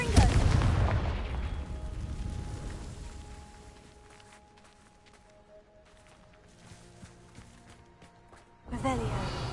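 A Confringo fire spell bursting in the Hogwarts Legacy video game: a loud blast at the start fading over several seconds into quiet ambience, then another burst at the end.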